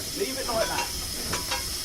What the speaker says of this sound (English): We're taking steam now.